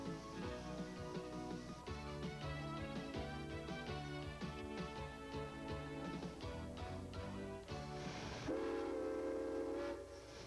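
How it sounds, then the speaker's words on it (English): A Climax geared steam locomotive on a New Hampshire steam railroad runs with a steady, dense tonal roar and rhythmic knocking, then a loud sustained horn blast near the end. "The Climax is a geared locomotive with an inclined piston driving a transverse shaft"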